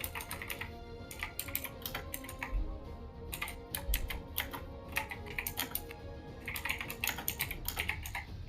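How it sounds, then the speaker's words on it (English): Loud computer keyboard typed on rapidly during a competitive gaming match broadcast, with dense irregular bursts of clacking keystrokes running throughout, close and prominent with no talk. "Angry typing intensifies."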